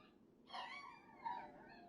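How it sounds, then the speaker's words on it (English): Dogs barking off in the background of a room, two short muffled yelps about a second apart, faint and distant over low hum. "Sorry, guys, the dogs are barking in the back."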